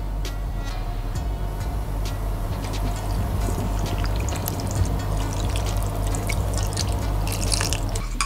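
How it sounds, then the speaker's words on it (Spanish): Chicken broth, soy sauce and wine pour and drip into a bowl of ramen noodles, a continuous liquid trickle with scattered splashes and drips throughout. "Le echamos un poquito del caldo,"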